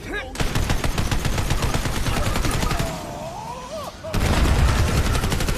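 Rapid gunfire from a pistol in Tiny Tina's Wonderlands, a fast repeating volley that ramps up, briefly eases while a whooshing effect sweeps through the middle, then resumes loud and dense.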